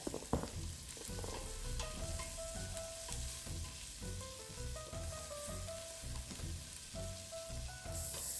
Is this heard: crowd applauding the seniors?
no